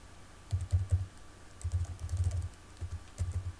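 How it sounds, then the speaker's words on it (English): Computer keyboard keys tapped in quick bursts while entering GitHub login credentials, with short pauses between the clusters of soft, close keystrokes in a quiet room. "I will type"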